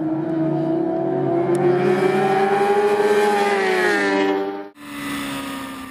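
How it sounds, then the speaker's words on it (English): A Suzuki GSX-R1000 training bike and a BMW S1000RR race bike scream down a race track, one engine loud and close, its high tone rising steadily with each gear before a sharp drop as the rider shifts or rolls off. "He's on his GSXR 1000 Motovudu training bike and I'm following on my BMW S1000RR racer"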